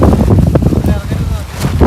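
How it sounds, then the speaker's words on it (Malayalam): Strong gusting wind during heavy rain roars into the microphone as a loud, continuous rumble, with people talking over it. "നല്ല കാറ്റ്"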